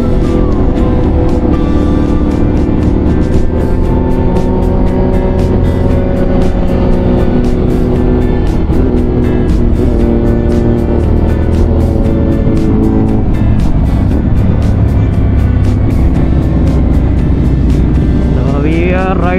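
An FB Mondial Piega 452 motorcycle rides a race track, its engine droning loudly and steadily with shifting pitch throughout, while a person talks over it.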